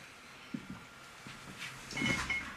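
A cupboard door is opened and closed indoors, giving a few soft knocks and a brief scraping slide toward the end, all fairly quiet and close.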